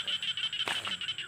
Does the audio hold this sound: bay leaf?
no